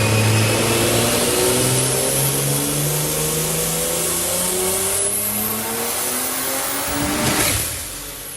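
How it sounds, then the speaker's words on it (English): A B58-engined shop car with direct-injection upgrades runs on a dyno, its engine note climbing steadily in a loud sustained rev for several seconds before easing off near the end, with no talk. "they went ahead and put those on their shop car and went back on the dyno and started doing some more"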